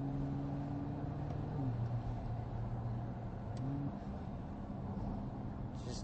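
Nissan GT-R safety car braking hard on a race track, its engine note dropping in steps as it downshifts two gears, then settling into a lower drone, heard from inside at moderate loudness.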